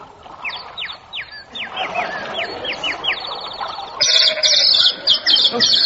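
A flock of sheep bleats at a riverbank, several overlapping calls in quick succession, some higher and warbling, growing louder and denser toward the end, with no talk over them.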